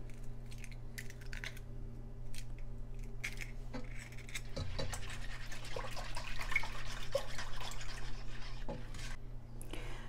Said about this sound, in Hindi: अब मैं इसके अंदर आठ अंडे डालूँगी और एक एक करके हम इसमें शामिल करेंगे और विस्क करते जाएंगे